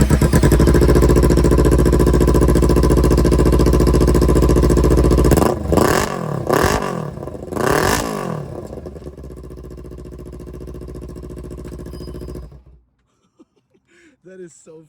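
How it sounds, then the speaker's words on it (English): A 2014 Kawasaki Ninja motorcycle running on a straight pipe with no muffler roars loudly at a steady idle, blips through three sharp revs, then drones on and cuts off, followed by a voice talking. "So we are gonna do a coach start, straight pipe basically."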